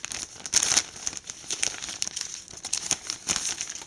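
A small Samsung paper leaflet from a Galaxy I5700 phone box is crinkled and handled up close, giving repeated sharp rustling bursts of uneven rhythm and loudness with no speech over them.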